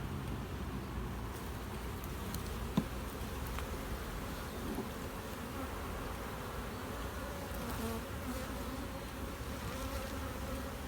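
Honeybees on a brood comb frame from a growing nuc give off a steady, dense hum close by, unbroken across the whole stretch with only a faint tick partway through.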